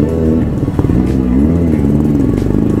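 A motorcycle engine runs steadily while being ridden, a loud, close, throbbing drone with slight rises in pitch, and the bike is overheating.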